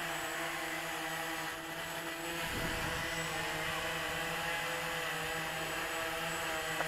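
Walkera QR-X350 Pro quadcopter drone hovering outdoors, a faint steady propeller whir with a brief swell partway through, no talking.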